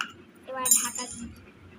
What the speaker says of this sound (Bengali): এবার ঢাকা দিই।